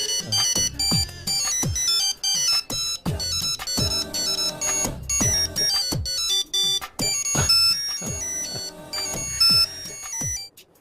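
A melodic telephone ringtone chimes loudly in repeated bright bursts with short gaps, carrying on alone for about ten seconds in a film scene.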